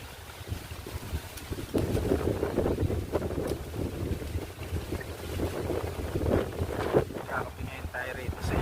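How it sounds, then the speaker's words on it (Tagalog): Heavy storm wind in rural Nueva Ecija, Philippines, blasts and buffets the microphone throughout, loud gusts rising and falling, with a voice talking intermittently underneath. "Lakas ng hangin na yan guys."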